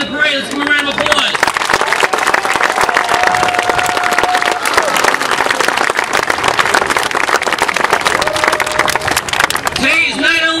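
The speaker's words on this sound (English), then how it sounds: "Let's give them a round of applause." A crowd applauds and cheers at a Little League opening day parade, steady dense clapping running the whole length at close, loud level, with voices briefly heard at the start and end.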